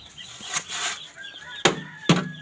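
Six ducks in a makeshift pen give a few short quacks and squawks up close, the last two calls sharp and loud.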